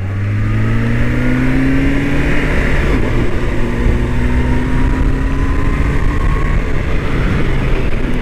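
A loud Kawasaki H2 motorcycle engine revs continuously with rising and falling pitch sweeps, steady and close throughout.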